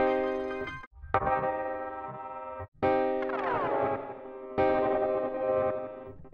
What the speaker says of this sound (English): So let's say I use Portal on just a basic triad chord on Keyscape.